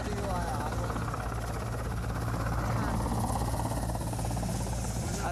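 A helicopter arrives overhead at an airfield tarmac, its steady rotor thrum and engine roar filling the sky continuously and fairly loud, with voices audible under the noise.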